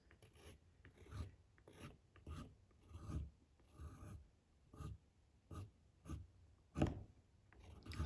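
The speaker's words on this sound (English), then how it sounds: "I'm just going to scribe into this some lines to create some trees" Sharpened end of a watercolor brush handle scribing tree lines into watercolor paper: a series of short, dry scratching strokes, close and fairly quiet, in an irregular rhythm with brief pauses between them.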